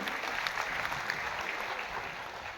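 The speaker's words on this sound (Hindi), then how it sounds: "जोरदार ताली बजा के स्वागत करें, जोरदार ताली बजा करके।" Steady applause from a gathered crowd welcoming newly enrolled active members at a political meeting, a dense continuous clapping that stays even and moderately distant throughout.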